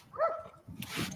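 An aggressive dog behind a fence gives a short, close bark with a whiny tone, followed by a rougher scuffle of noise, all in about a second with no talk.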